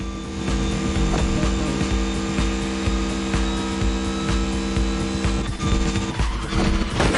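A Mercedes Silver Arrow drives in the racing game The Crew Motorfest on PS4, its loud, steady engine roar continuous throughout, with hints of tire squeal toward the end and no voices.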